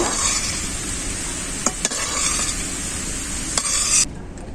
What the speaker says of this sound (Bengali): হালকা করে পেঁয়াজগুলোকে ভেজে নেব পেঁয়াজটাকে হালকা করে ভেজে নিয়েছি